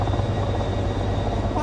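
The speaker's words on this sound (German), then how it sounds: "Okay, Helikopter kommt wieder." In the Train Sim World 4 video game, a helicopter holds a loud, steady rotor and engine drone throughout a brief moment.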